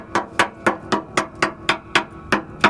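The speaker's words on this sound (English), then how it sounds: "I kind of started banging it with either hammer or this crowbar" A hammer bangs repeatedly against the rusty metal underside of a school bus, knocking off flaking rust in a steady rhythm of about ten sharp, close, ringing strikes evenly spaced apart.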